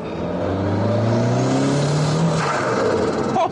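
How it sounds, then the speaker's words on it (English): Lotus Esprit turbo engine revs hard and loud on a rolling road, its pitch climbing through the gears with rising turbo whine and a gushing, hissing rush as the wastegate vents, ending in a brief sharp pop. "Now that is what you call a wastegate wasting."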